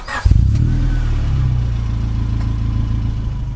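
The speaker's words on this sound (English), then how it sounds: "We can get a little start up." A Honda Civic Type R EK9 hatchback engine cranks and catches, then settles into a steady low idle rumble, close and fairly loud.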